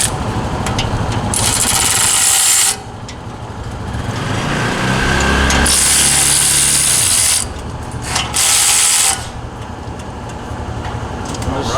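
Bursts of a power impact tool tightening exhaust bolts on a CFMOTO UFORCE 1000 side-by-side, several loud rattling runs of a few seconds each, close up, with some talk mixed in.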